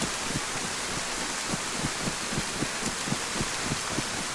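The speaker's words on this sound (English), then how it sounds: "The rain is so loud." Steady broadband hiss of heavy rain in the survival game DayZ, loud and continuous with scattered soft low thumps of drops, no voices over it.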